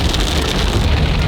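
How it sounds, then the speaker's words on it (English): Heavy rain pounds on a moving car in a downpour at night, a loud, dense, continuous hiss and drumming with a low rumble of road and engine beneath. "it absolutely started bucketing down with rain"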